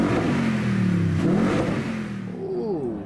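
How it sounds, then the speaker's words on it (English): A 2020 Toyota Tundra TRD Sport truck engine in Gran Turismo Sport revs with a loud, sustained TRD intake roar, rising and falling in pitch over a few seconds. "You can hear that TRD intake."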